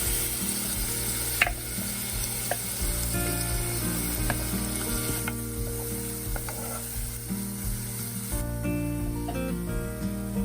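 A chopped ginger and garlic mix sizzles in 3 to 4 tablespoons of hot oil in a small cooking pot over medium heat, a loud, continuous close-up frying hiss with occasional stirring clatter for about ten seconds.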